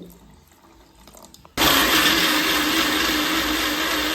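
Water poured into a mixer grinder jar while making unniyappam batter: a quiet, faintly rustling start gives way to a sudden, loud, steady rushing that carries on to the end.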